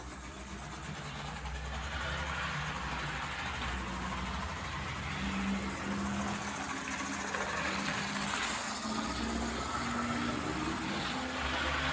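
A small HO scale diesel locomotive from a train set runs its electric motor steadily, a constant whirring hum with a faint rising whine and no talk over it.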